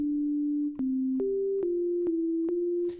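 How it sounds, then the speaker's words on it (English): A pure sine tone from the Kaivo synthesizer sounds loud and steady, stepping between a few nearby pitches. Each change is marked by a sharp click, and there is no talking. "We have a sine wave loaded in."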